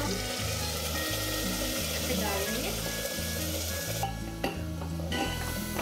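Chicken fries with an onion, tomato and green chilli paste, a steady close sizzle under rhythmic stirring scrapes of a spoon in the pan, with background hum and a brief quieter stretch.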